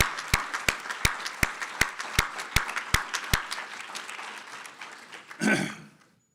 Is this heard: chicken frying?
no